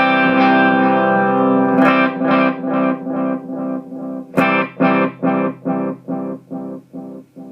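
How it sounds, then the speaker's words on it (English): Electric guitar chords run through a TC Electronic Nova Delay pedal in tape mode, each struck chord followed by a train of rhythmic repeats that soften and fade, played twice with no voice present. "So I'm just going to do the tape mode now, just so you can hear the difference in the repeats."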